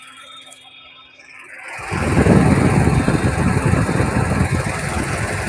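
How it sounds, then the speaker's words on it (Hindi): A Tata Punch CNG car's radiator fan starts up after a quiet moment and keeps running loudly at full speed, a steady whir, close by, with no talking, though the engine is cold. "ये इसका फैन इतना हाई स्पीड में चल रहा है"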